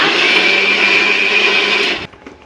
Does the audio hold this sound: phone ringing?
no